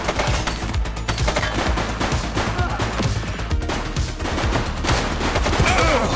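Heavy gunfire in The Precinct police game, a dense, loud and continuous barrage of rapid shots with crashing impacts, filling the whole stretch without a break.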